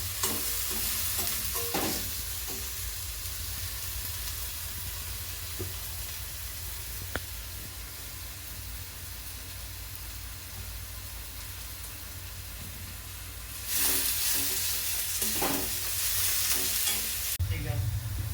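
Onion sautéing in a pan for gobi manchurian gives a steady close sizzle and hiss, with occasional scrapes of stirring and louder bursts of frying toward the end, no talk.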